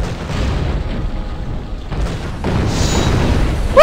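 Cannon fire in the video game GUN booms through a dense, continuous wash of game noise and rumble, with a louder burst near the end.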